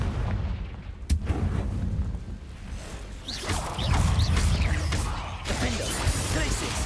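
A Confringo fire spell cast in the Hogwarts Legacy video game: a sharp crack followed by booming, crackling blasts and rumbling bursts of magic, moderately loud with some game effects layered over it.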